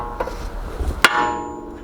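A hammer strikes a Honda Accord EX-R steering knuckle to knock the ball joint loose: a few dull knocks, then one sharp, loud metallic clang that rings and decays, close by with no talk.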